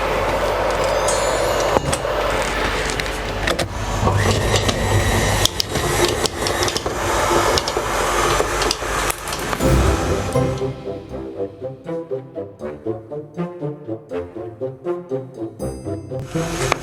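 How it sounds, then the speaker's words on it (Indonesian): Electric mixer creaming butter, margarine and powdered sugar, a loud steady motor whir for about ten seconds, then a lighter, rhythmic pulsing churn as the beaters work the mixture. "ini kita harus mixer dulu sampai semuanya kecampur"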